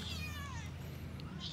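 Cats meow at feeding time while a fish head is served for lunch, with one clear, drawn-out meow close by, fainter calls after it and steady background noise.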